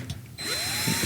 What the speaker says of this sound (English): So I'll do the same thing with the drill, just getting the tension rods to meet